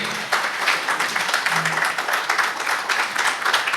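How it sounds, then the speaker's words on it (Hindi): Audience applause at a media team's fifth anniversary gathering in Sahiwal, Pakistan, a steady wash of clapping from a crowd that holds at a moderate level for a few seconds without a break. "आपकी भरपूर तालियों में"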